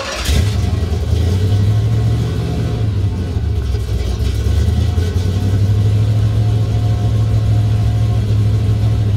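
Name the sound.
1971 Corvette 327 V8 engine revving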